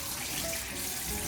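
Steady running warm tap water splashing into a sink while rinsing raw chicken, a continuous close hiss with no voices.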